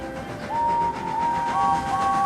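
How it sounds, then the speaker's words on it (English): A distant steam engine whistle sounds in long, wavering tones over a low rumbling background. "from far away an engine whistled"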